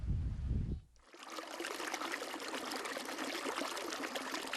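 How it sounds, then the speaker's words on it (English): Clear water trickling and flowing between rocks at a desert oasis in the Gobi, a steady close babbling stream that takes over after a brief burst of low rumble at the start. "Clear water is flowing from between the rocks."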